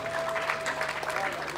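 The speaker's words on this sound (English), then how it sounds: "the round of applause for her." Brief burst of audience applause for actress Foluke Daramola at a gathering, dense clapping over a steady background hum, lasting barely two seconds.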